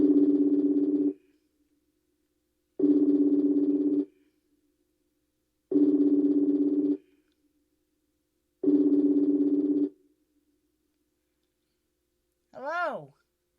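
A phone call rings out with a steady ringback tone: four long, evenly spaced rings of about a second each, separated by silence. A short voice answers right at the end.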